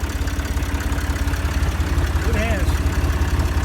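A Massey Ferguson tractor engine idles nearby with a steady, low, rhythmic throb while someone talks over it.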